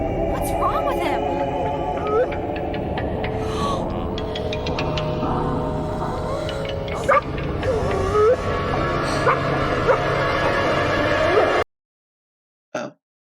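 A dog in a Goosebumps television episode barks in short yips and whimpers over a busy mix of music and other sounds, fairly close, before the soundtrack cuts off abruptly.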